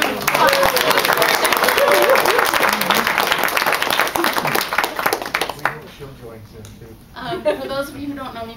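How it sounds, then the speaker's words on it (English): An audience claps for a woman in the crowd, a dense wash of applause that thins after several seconds into scattered claps as a speaker begins talking over the fading sound. "So please give her a big round of applause."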